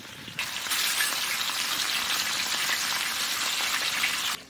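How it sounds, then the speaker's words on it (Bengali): A large wok cooking outdoors at a winter family picnic gives a loud, continuous sizzling hiss that swells in quickly and holds steady throughout. "কি বড় কড়াই রান্না হচ্ছে"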